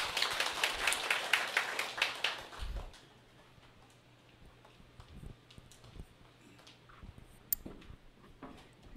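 An audience applauds a team leader coming up to speak at a business event, with loud, dense clapping for about two seconds that quickly fades to scattered faint claps and room noise.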